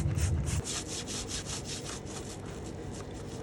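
Dirty unicycle wheel being scrubbed clean with soap, a brisk rhythmic rubbing and brushing close up, repeating strokes for a few seconds with no talking.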